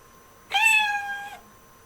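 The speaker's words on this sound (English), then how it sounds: "Then they heard a meow." A single cat meow, rising then drawn out and fading, clear and fairly close against a quiet background.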